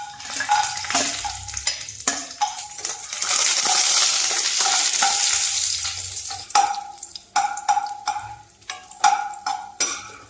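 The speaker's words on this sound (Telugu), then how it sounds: "ఇప్పుడు మనం దీనిలో ఒక్కొక్కటిగా వేసుకుని వేయించుకుందాం మనం ముందుగా జీడిపప్పు వేసుకుందాం" Cashew nuts fry in a pan for semiya payasam with a soft sizzle, while a spoon repeatedly clinks and scrapes against the pan in an irregular rhythm, close and fairly loud.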